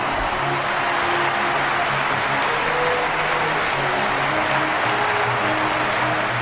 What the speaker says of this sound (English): can you give a big cheer for your 2021 Supreme Champion